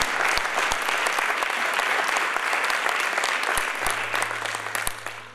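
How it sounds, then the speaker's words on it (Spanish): A church congregation at a Spanish-language sermon in Atlanta bursts into loud, full applause, a dense clatter of many hands with a few sharp louder claps standing out, then tapering off toward the end. "Un aplauso otra vez al Señor."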